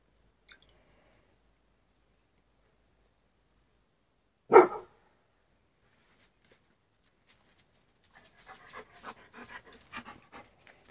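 Mostly quiet, with one short sharp snort midway, then a dog's quick, faint panting breaths toward the end.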